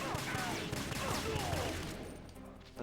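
Rapid gunfire rattles in the stealth video game Metal Gear Solid 2 as guards are shot down, a dense burst of shots fading toward the end under a low background.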